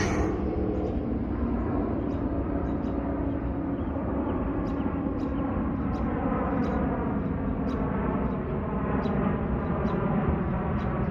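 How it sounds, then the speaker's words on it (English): A low, steady engine rumble drones on throughout as an airplane passes overhead near Yonge and Steeles, Toronto, with small outdoor clicks on top. "I hear a plane."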